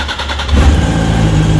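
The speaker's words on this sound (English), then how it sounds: "firing up is pretty simple. Again, you're just thumbing the starter." A 2006 Yamaha YZF-R1 Anniversary sport motorcycle with stock exhaust cranks on the electric starter and fires up, then settles into a loud, steady idle close by.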